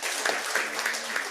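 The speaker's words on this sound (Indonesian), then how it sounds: "Yang setuju tepuk tangan bagi Allah kita." A church congregation claps together in steady, even applause that fills the room, loud and continuous, with a faint voice underneath.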